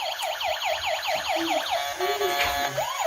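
A battery-powered toy ambulance with lights sounds its electronic siren after fresh batteries go in, a loud, continuous wailing warble that shifts pattern partway through.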